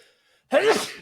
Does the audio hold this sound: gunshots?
no